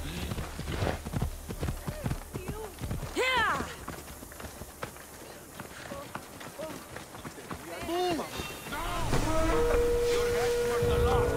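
Horse galloping in Assassin's Creed Odyssey, a run of quick hoofbeats that goes on under talk and game effects, loud and close, with a steady whistling tone near the end.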